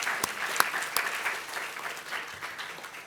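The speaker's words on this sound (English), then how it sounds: "let's give friends and family a round of applause" An audience claps steadily at a college tour closing ceremony, a dense even patter of applause from a sizeable crowd heard at moderate distance, with a few sharper individual claps standing out.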